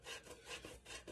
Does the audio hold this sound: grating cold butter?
yes